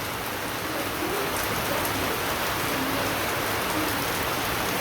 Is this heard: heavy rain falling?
yes